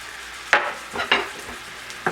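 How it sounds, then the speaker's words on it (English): Peppers and onions frying in warm oil in a pan, with sizzling broken by several sharp stirring scrapes at irregular intervals, close and fairly loud with no talking. "I'm going to go ahead and add those peppers and onions in there"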